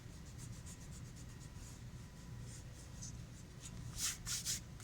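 Pencil lines being erased from a drawing of a cartoon character's clothing: a steady, scratchy rubbing that runs throughout, close and soft, with a few brisker strokes near the end.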